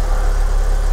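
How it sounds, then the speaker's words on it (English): A 2017 Fiat 500, a crash-repaired car, idles just after starting, giving a steady, close, even engine hum with low rumble and no talk over it. "So I've just started the engine for a different purpose."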